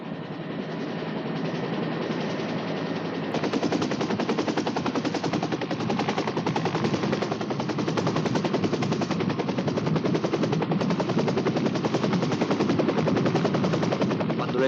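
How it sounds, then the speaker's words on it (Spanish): A helicopter lifts off from King Leopold's lagoon. Its rotor chops in a rapid, dense, continuous beat that grows slightly louder after the first few seconds and holds steady with no voices. "Cuando el helicóptero despegaba de la laguna del Rey Leopoldo"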